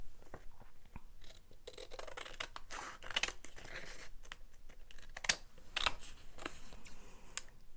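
Scissors snip through paper scraps with irregular crisp cuts and faint rustling of the paper, close but quiet, with no speech.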